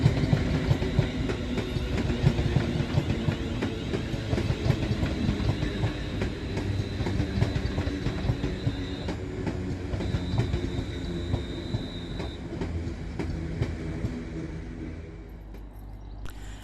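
A London Northwestern Railway Class 350 electric multiple unit passes through Crewe station, giving a steady, loud rolling rumble with rhythmic wheel clatter throughout and a thin high whine fading near the end.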